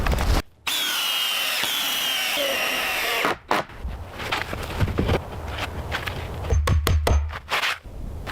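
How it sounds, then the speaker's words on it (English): A power drill drives fasteners into wooden porch floor planks on an off-grid forest cabin, with a loud sustained whirring burst followed by shorter drill pulses, knocks and wood clatter nearby. "planks are laid in an orderly fashion and secured with a drill to create the porch floor"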